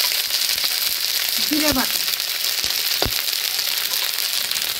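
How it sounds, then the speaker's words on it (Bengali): Spice masala for meat frying on a village clay stove, a loud, dense, continuous sizzle throughout with a couple of sharp knocks and a brief voice partway through. "মা এবার মাংসের জন্য মশলাটা কষিয়ে নিচ্ছে।"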